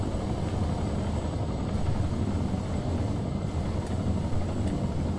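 A helicopter's rotor and engine in a video game give off a steady, loud, continuous whirring drone that holds constant throughout, with no talking.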